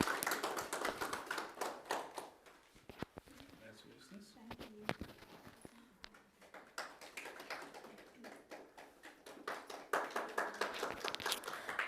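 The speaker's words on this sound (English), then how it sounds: "Let us all give a round of applause to her." Scattered then fuller clapping from a Toastmasters meeting audience honoring an award winner, sharp individual claps building into applause, dipping midway, with some talk underneath.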